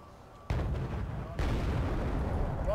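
Heavy artillery fire in the real-time strategy game Wargame: Red Dragon, a deep rumbling barrage that swells suddenly into a sustained roar of booms, with a second wave of blasts joining partway through.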